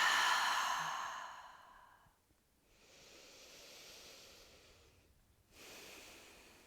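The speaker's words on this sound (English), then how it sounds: "inhale, open mouth, exhale." Open-mouth exhale during a yin yoga session, a long, breathy sigh that fades over about two seconds, followed by quieter soft breaths with no talking.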